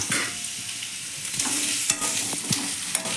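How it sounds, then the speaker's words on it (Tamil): Radish sautéing in hot oil in a pan, a steady close sizzle broken by a few sharp scraping stirs of a spoon against the metal, with no talking. "முள்ளங்கி போட்டு வதக்கிடலாம்"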